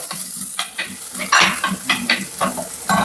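Curry leaves and green chilies crackle and sizzle in hot oil for a fish curry, with sharp popping bursts over a steady fry close by and no voices.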